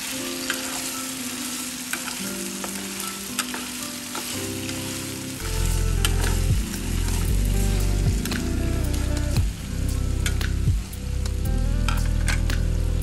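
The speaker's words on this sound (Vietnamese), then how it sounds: "Mình sẽ trộn đều cho thịt nó săn ha." Pork ribs sizzle and fry steadily in a hot pan, growing louder partway through as the meat is stirred, with close scraping and clinks of a utensil against the pan over continuous crackling oil.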